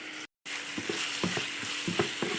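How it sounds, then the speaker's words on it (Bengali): Ginger-garlic paste frying in a pan with onions for a chicken bread puri filling: a steady sizzle with intermittent scraping stir strokes, close and continuous after a brief gap. "ভালো করে ভেজে নেবো আদা রসুন বাটা।"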